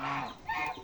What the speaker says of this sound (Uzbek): Mana kurkimiz.